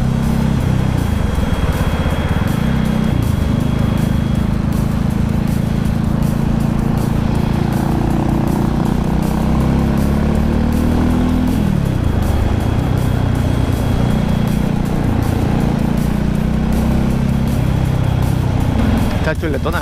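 A Vort-X 300R motorcycle engine runs steadily and loudly close by, its pitch shifting as it revs, with people talking over it throughout.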